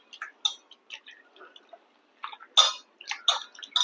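Water trickles and splashes onto thin-cut potato slices, heard as irregular small drips and splatters, close and quiet, with brief pauses and a quicker cluster of splashes near the end.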